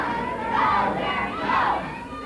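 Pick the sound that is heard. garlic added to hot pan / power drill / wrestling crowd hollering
wrestling crowd hollering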